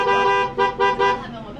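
A vehicle horn honks near a tiger enclosure in Harbin to call the tigers: one long loud toot followed by three short blasts, close by.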